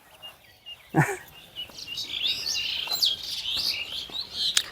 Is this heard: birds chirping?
yes